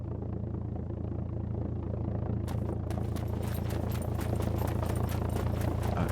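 A plane in the survival game SCUM drones overhead as a steady low rumble that swells gradually, with crunchy footsteps in the foreground.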